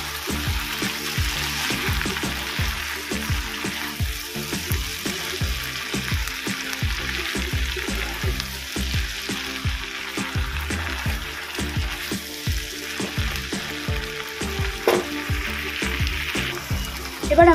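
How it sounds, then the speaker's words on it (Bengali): Whisked sour yogurt is mixed into a pan of frying chicken, making a steady close sizzle broken by a regular rhythm of spoon taps and scrapes lasting many seconds. "এবার আমি ওর মধ্যে দেব আগে থেকে ফেটিয়ে রাখা টক দই। ভালো করে মিশিয়ে নেব।"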